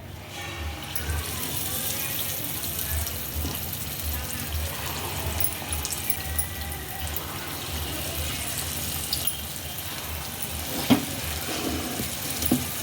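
Mysore bajji batter frying in shallow oil, giving a steady bubbling sizzle that stays fairly even throughout, with someone talking over it and a sharp clink near the end.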